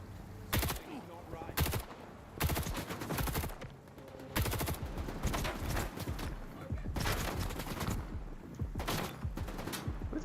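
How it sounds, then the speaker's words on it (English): Gunfire in S.T.A.L.K.E.R. 2: Heart of Chornobyl, repeated loud bursts of rapid automatic fire in clusters with short gaps between them, near and harsh throughout. "Who the hell is shooting at me that they can hit me through this?"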